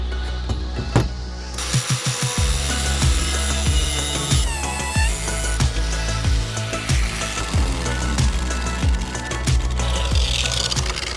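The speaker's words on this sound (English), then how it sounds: "I'm going to take that little grinder and I'm going to grind some of this down" Small handheld grinder cutting into a metal awning bracket for a roof rack, a loud close whine that rises and falls through repeated passes.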